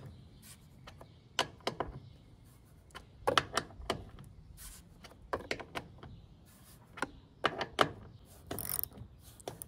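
Bolts on a Lexus GX roof rack are loosened by hand, giving a close series of short metallic clicks and ratcheting creaks in irregular bursts over a quiet background.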